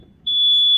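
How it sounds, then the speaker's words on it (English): A carbon monoxide alarm inside a campervan gives one loud, sharp, high-pitched beep that starts abruptly and holds steady. "That's the carbon monoxide alarm going off in the van."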